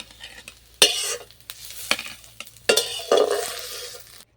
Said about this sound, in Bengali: এই মূলোটা তেলের মধ্যে দিয়ে দিচ্ছি। দিয়ে ভালো করে একটু নাড়িয়ে নেব।